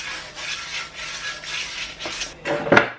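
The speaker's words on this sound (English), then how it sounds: "I'm using emery cloth because I don't have any sandpaper, but anything to scuff it up, just to get all of that extra rust" Emery cloth scuffs rust off metal parts during a rear disc brake conversion on a lifted Honda CR-V, with repeated rhythmic rasping strokes close by and a sharper metallic clink at the end.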